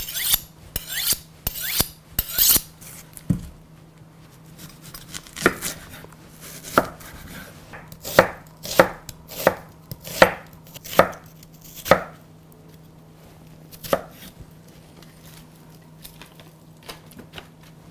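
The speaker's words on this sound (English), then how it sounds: "Let's chop some onions." Onions are chopped with a butcher's knife on a cutting board in a series of crisp, close knocks, quick bursts at first and then a steadier rhythm, with no talking.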